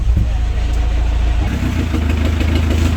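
A Chevrolet Captiva diesel engine idles steadily after sitting unused for two years, a continuous low rumble close to the microphone that thickens midway as the idle settles, with no talk over it.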